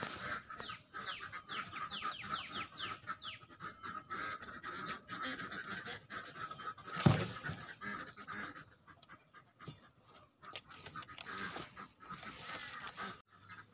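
Chickens cluck continuously on a small rural Thai farm where ducks and chickens are kept, a busy layer of close and distant calls with one sharp knock partway through.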